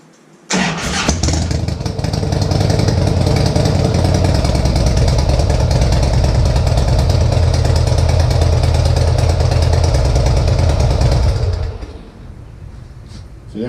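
Motorcycle engine fires up right after a cam chain tensioner repair and runs loud and steady at close range for about eleven seconds, a rough, chattering idle, then cuts off abruptly.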